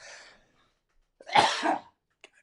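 A single harsh, close cough bursts out after a breathy exhale, followed by a faint click in an otherwise quiet room.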